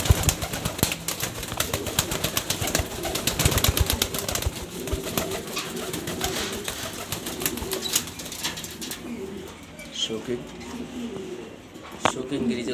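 Rare-coloured male pigeons in a loft give steady throaty coos nearby, with occasional wing flaps and someone speaking over them.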